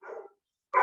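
A dog gives two short, close barks separated by a brief silence, the second louder and sharper than the first, with no talk over them.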